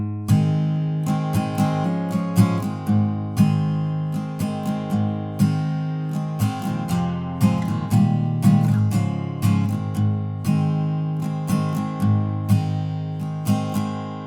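An acoustic guitar strums the chord progression of the intro in a steady, even rhythm, each strum ringing out clearly and close up, with no voices over it.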